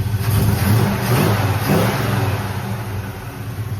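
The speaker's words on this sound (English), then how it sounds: "this is a 1967 two-barrel 327 motor" Big 1967 327 V8 car engine with a two-barrel carburetor and headers revving up close, deep rumble swelling in a couple of throttle blips before settling into a loud, steady roar.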